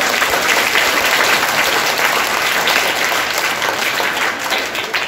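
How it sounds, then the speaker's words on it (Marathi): Loud, sustained applause from a school audience at a quiz event at a primary school, dense clapping filling the whole stretch without a break, close and even in level. "एकदा जोरदार टाळ्या होऊन जाऊ द्या."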